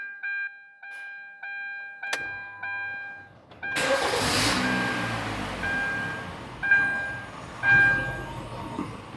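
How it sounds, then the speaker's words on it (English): A 2010 Kia Forte with a recent P0106 code and a weak heater: a few dashboard chimes come first, then the starter cranks briefly and the engine catches into a steady idle close by. "I'm going to cycle the key and start it up."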